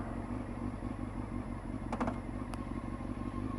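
A Honda motorcycle engine hums steadily and fairly loud, with a few sharp mechanical clicks and clunks near the middle as it shifts gears noisily.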